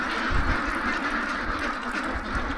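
A flock of ducks quacking on a duck farm, a dense continuous chorus of overlapping calls at moderate distance with no clear breaks.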